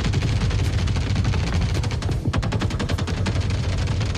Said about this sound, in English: So here's some video of some test footage of AI shooting each other behind breakable cover and Maelstrom barrels.